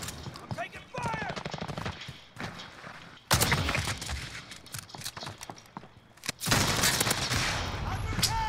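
Heavy automatic gunfire in Modern Warfare, loud rattling bursts and volleys near and far, with muffled voices mixed in between the bursts.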